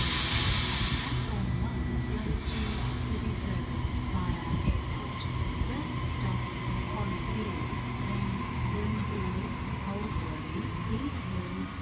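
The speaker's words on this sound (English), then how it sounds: "We've got a Cube MZ class leading a container train." A container train led by a Cube MZ class locomotive rumbles past at Ingleburn, Sydney, with steady low-frequency droning and hiss, a continuous mechanical roar throughout.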